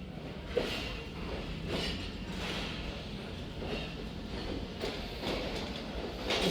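A passenger train hauled by an AG30 locomotive, running number 6005, rolls into a station on the Zakariya Express route, a steady rumble and rhythmic wheel clatter at moderate distance with no talk.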